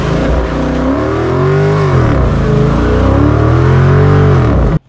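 2023 Dodge Charger Super Bee Special Edition engine revving loudly and close, a continuous roar that climbs and falls through several rev sweeps before cutting off abruptly at the end.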